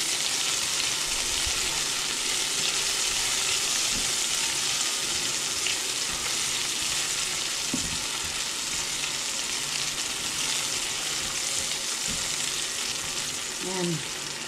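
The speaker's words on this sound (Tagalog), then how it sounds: "Para ma-prito sa luya at makakuha natin yung kanyang flavor." Ginger fries in a pan with a steady, dense sizzle throughout, with a few faint clinks and stirring sounds.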